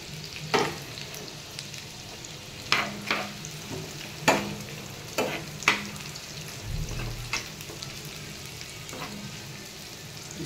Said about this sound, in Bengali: একটু ভেজে নিব। কয়েকটা শুকনো মরিচ, কাঁচা মরিচ